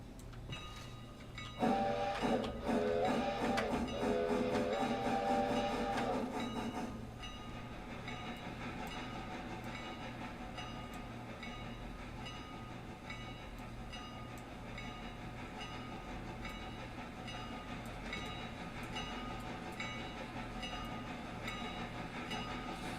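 A train reverses slowly in the railway simulator game Railroader, with a loud tonal horn or whistle blast early on, followed by a steady low rumble and faint clicking of wheels over the rails, with no voices.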